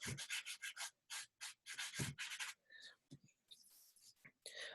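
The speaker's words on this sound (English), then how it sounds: "this is what it looks like when you start rubbing some of that in" Conte crayon rubbed into mid-tone paper gives a close, dry rhythmic scrubbing in short repeated strokes, followed by softer scattered rustles and brief scrapes.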